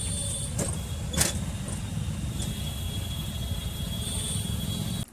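Road traffic on a busy street during a shopping outing, heard as a steady, close low rumble of cars and other vehicles with a couple of brief sharper passing sounds. No one speaks.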